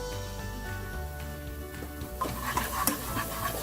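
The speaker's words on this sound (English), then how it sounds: "Just continue stirring this till the oil starts separating from the mixture" A thick fish curry masala for spicy Nellore chepala pulusu is stirred in a pot over a low flame, with a soft steady sizzle and scraping spoon strokes that grow a little louder and busier toward the end.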